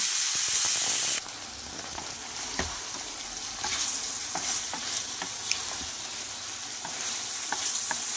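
Potatoes, eggplant and long beans are stirred and fried with spices in a pan, giving a steady close sizzle broken by scraping strokes of a spoon against the metal.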